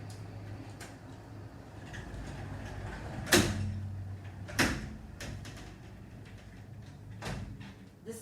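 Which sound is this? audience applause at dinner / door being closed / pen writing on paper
door being closed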